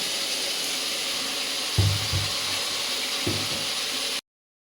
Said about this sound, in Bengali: আর একটু পানি দিয়ে দেবো আমি।